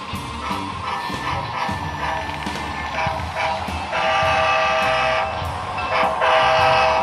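Model freight train hauled by a chassis-system locomotive runs along a layout, a close, continuous rolling clatter of wheels on track that grows louder toward the end, with no voices.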